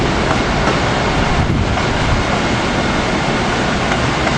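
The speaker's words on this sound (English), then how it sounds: "914 is taking the train north into the yard" AEM7 electric locomotive number 914 hauling a train with cab car 9651 northward toward a rail yard, a steady, loud broadband rumble of rolling wheels with faint rhythmic clatter throughout, no voices.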